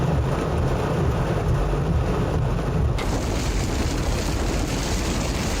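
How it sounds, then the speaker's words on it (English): Heavy rain with thunder during a drive through Florida: a loud, dense roar of rain hitting the car with deep rumbling underneath, and the texture brightens sharply midway. "we had multiple stretches of heavy rain"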